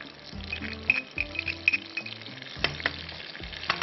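Whole spices such as cloves, cinnamon and black pepper sizzle with red chilli powder in a hot pan for a murgh cholay masala, a steady frying hiss broken by a few stirring scrapes over soft background music.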